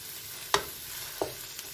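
Minced meat and parsley filling being sautéed in a pan: two or three sharp spatula scrapes and stirs punctuate a soft, steady sizzle in a quiet kitchen.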